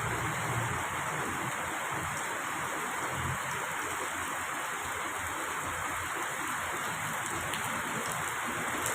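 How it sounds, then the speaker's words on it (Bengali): Heavy rain pours steadily in Singapore, a dense, even roar of water with no letup and no voices. "প্রচণ্ড বৃষ্টি"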